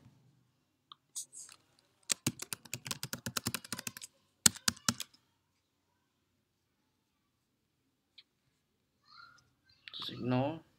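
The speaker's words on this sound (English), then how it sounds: "type in the password." Someone types a password on a computer keyboard: a quick burst of close, crisp key clicks followed by a few more separate taps, with brief quiet speech near the start and at the end.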